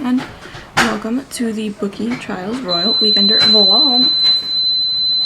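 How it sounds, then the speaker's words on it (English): A household smoke alarm sounds a thin, steady high-pitched tone that starts partway through and holds to the end, running under a person talking close up. "Of course the alarm goes off as soon as I start filming."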